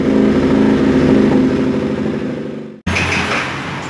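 Motorcycle engine idling loudly and close during fuel injector cleaning, running steadily and then faltering and cutting out briefly before the sound resumes.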